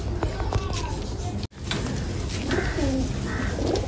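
Pakistani Kamagar pigeons, pure white golden birds collected from Punjab, give soft low cooing phrases in a few short bursts over steady background noise, with a brief dropout partway through.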